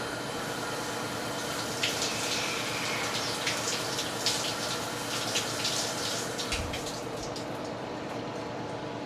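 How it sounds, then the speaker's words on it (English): Hot shower water runs steadily over a catcher's mitt to wet and soften the leather without soaking it, a constant close hiss and splatter with faint droplet patter and no talking. "this is as hot as the shower goes"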